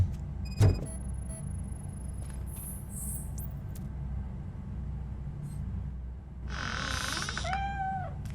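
A cat meows in the video game Robocop: Rogue City, with a few short, rising cries late on over a steady low hum of game ambience, after a brief sharp knock near the start.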